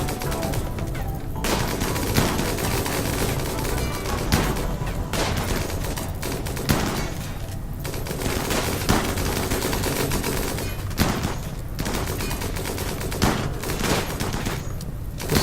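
Sustained gunfire in the colony-management game Rimworld, rapid machine-gun bursts and fusillades rattling almost without pause, loud and dense with no talk.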